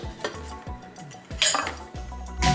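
Metal pots and utensils clink and scrape in a home kitchen while frying oil is drained from plantain fry into a bowl, several short irregular clatters close by with no talk.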